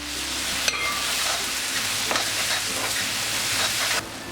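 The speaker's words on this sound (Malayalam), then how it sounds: "ചതച്ച കുരുമുളകും പെരിഞ്ചീരകവും മഞ്ഞൾപ്പൊടിയും ഗരം മസാലപ്പൊടിയും ചേർത്ത് നന്നായിട്ടിത് ഇളക്കി കൊടുക്കാം" Crushed pepper, fennel, turmeric and garam masala are stirred into beef in a hot pan, producing a loud, close, continuous sizzle with stirring scrapes that cuts off near the end.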